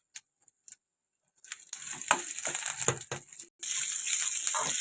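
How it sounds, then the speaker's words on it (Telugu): Shallow-fried vegetarian fish pieces drop into a pan and are stirred, giving a few light taps and then a rising sizzle with clattering scrapes, close by. "ఇప్పుడు షాలో ఫ్రై అయిన ముక్కలన్నీ దానిలో వేసుకుందాం"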